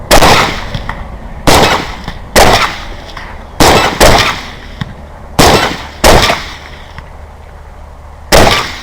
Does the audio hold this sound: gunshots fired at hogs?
yes